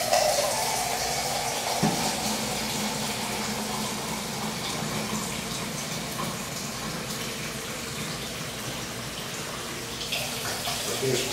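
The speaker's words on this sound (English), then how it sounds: "We're gonna add about 3 cups of water." Water pours steadily into a pot of shrimp bisque with garlic, shrimp and wine, a continuous broadband gush lasting about eleven seconds at a moderate, close level.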